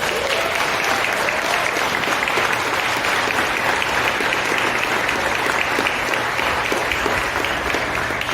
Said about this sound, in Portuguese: Uma salva de palmas para a Jéssica.